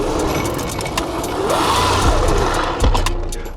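A homemade 60 mph electric drift kart swings through a handbrake 180. A rising and falling electric motor whine sweeps over close, scrubbing tire and chassis noise, ending in a brief thump.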